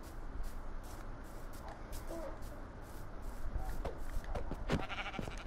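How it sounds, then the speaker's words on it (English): A Minecraft sheep bleats faintly amid soft game ambience and shuffling, a brief wavering call standing out only briefly over the steady background. "Sorry, sheep."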